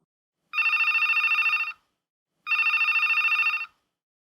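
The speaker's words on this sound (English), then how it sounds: "Receiving a client's phone call." An office telephone rings for an incoming client call, two clean trilling rings about a second long each, separated by a short silence, loud and close with nothing else heard.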